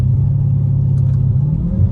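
A Dodge Hellcat Redeye engine runs steadily with a loud, deep, continuous rumble throughout. No voices can be heard.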